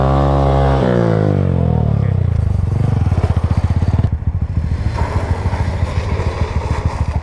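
A small Honda Grom motorcycle engine revs from idle up to a high, rapid buzzing pitch and holds there loud and close, with a sputtering, pulsing edge as the throttle stays open.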